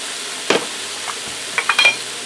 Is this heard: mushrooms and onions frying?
yes